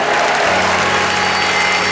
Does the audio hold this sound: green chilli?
no